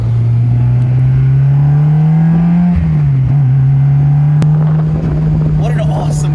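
A Honda S2000 engine runs loud and close, holding a steady throaty tone with one brief rise in pitch before settling again.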